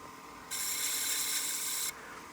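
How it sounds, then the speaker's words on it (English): Sandpaper rubs against the wooden rim of a turned coin box, likely spinning on a lathe, making one continuous hissing rasp of just over a second that starts and stops abruptly over a quiet background hum. "Okay, I'm going to go ahead and sand the rim here."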